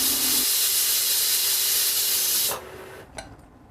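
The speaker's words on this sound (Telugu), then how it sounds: "మూత పెట్టుకుని మీడియం ఫ్లేమ్లో 12 నుంచి 14 విజిల్స్ వచ్చే వరకు ఉడికించుకోవాలి" A pressure cooker of mutton on a medium flame lets out a loud, steady hiss of escaping steam for a few seconds, which then cuts off abruptly, leaving a faint, brief sputter.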